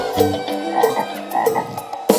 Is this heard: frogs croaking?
yes